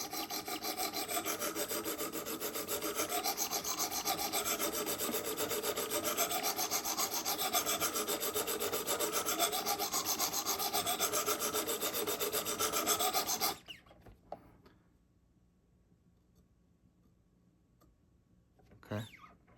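A Benchmade knife blade is sharpened on a Wicked Edge system, with steady, rhythmic stone-on-steel rasping strokes close up for about thirteen seconds, then near silence broken by a brief handling noise.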